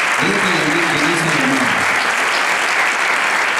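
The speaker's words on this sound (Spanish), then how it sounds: "ella, por hacer el debut, se merece un aplauso doble" A concert audience at a saxophone ensemble show applauds a debuting performer, a loud, dense and steady roar of clapping, with a voice speaking over the first half.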